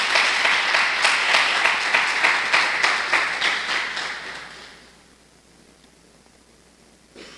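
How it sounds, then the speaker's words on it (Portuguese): A church congregation breaks into loud, dense applause to the Lord during a sermon, with rhythmic surges in the clapping before it fades out and leaves near silence. "Dá um aplauso ao Senhor aí, em nome de Jesus."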